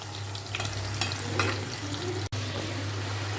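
Potatoes frying in a pan, a steady soft sizzle with occasional stirring scrapes, close and fairly quiet over a low hum.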